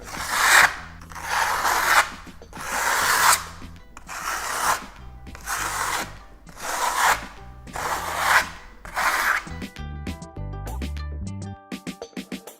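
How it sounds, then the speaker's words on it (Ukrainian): A steel trowel spreads marmorino plaster across a wall in small sections, barely touching the surface, making about seven rhythmic scraping sweeps, close and clear, before the strokes stop and a few faint knocks follow. "Ледь-ледь торкаючись поверхні, ми розподіляємо його по поверхні."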